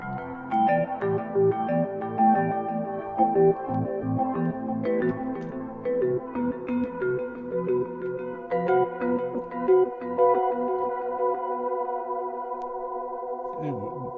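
An AudioKit Digital D1 synthesizer on iPad plays a sequence of notes drenched in long, spacious canyon reverb that lets each tone ring out and blur together.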